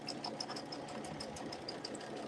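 Sewing machine running at a moderate pace, a steady mechanical hum with quick repeating needle clicks, fairly quiet and close, alone without voices.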